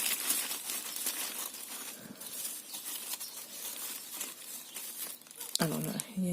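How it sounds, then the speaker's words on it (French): Tissue paper crinkles and rustles close up as a package is unwrapped, a continuous run of crisp crackles with a louder crumple near the end; a voice is faintly present. "Donc emballé dans du papier de soie."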